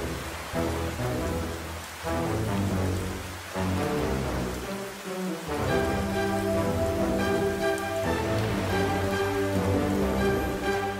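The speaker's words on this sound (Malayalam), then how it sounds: "മഴ കുറയുമെന്ന് കാത്തെങ്കിലും മഴ കുറഞ്ഞില്ല." Heavy rain used as a sound effect in a Noah's flood story, a dense continuous downpour with pattering drops that holds steady and loud throughout, with faint musical tones rising in the second half.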